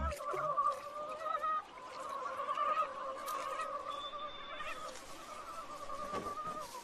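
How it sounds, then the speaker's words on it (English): A dense chorus of frog mating calls drones steadily in high, tonal trills at night in the Amazon forest, layered and continuous, fairly faint and distant with no talking. "the frog calls sound like a dinner bell"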